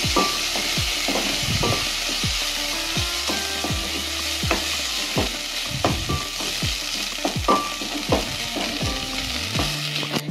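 Washed rice and fish head fry with cloves and spices in a pan for Bengali muri ghonto. A steady sizzle runs under repeated scrapes and knocks of a stirring spoon, close and continuous.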